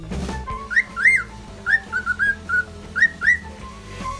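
A cockatiel whistles a bright, close run of short rising and falling notes in quick clusters, loud and clear with nothing else over it.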